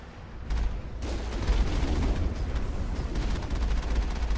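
The Mako's main cannon in Mass Effect fires with a heavy booming blast, followed by a sustained loud rumbling roar of game combat noise.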